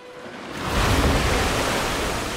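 Water splashing from a log flume ride in the Planet Coaster theme park game: a broad, loud rushing wash that swells in after a half-second and holds steady, with no talk.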